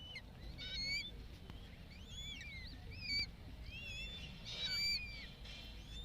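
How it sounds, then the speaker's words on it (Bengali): Geese and their goslings at the Parc Floral de Paris, with repeated thin, high peeping calls from the young birds scattered through the clip, faint and moderately distant over a low outdoor rumble. "এগুলো হচ্ছে রাজহাঁসের বাচ্চা, যে রাজহাঁসগুলি আমরা দেখলাম এখন এদেরই বাচ্চা।"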